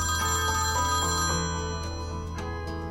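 A telephone ringing with an incoming call, its electronic ringtone trilling loudly and continuously in repeated bursts, with no talk.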